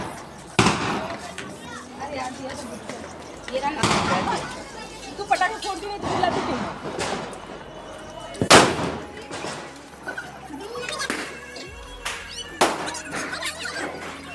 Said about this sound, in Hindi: ये देखो ये आलू बम था, जो गोल गोल सा होता है ना, इस आलू बम ही बोलते हैं